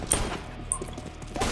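Gunfire from a sniper rifle in a video game, a few sharp cracks, the loudest near the start and another midway, ringing over a low steady game background.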